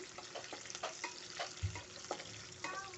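Onion frying in a pan in a home kitchen while cooking a Telangana-style gongura chutney, a faint sizzle with a few soft stirring scrapes and clinks close by.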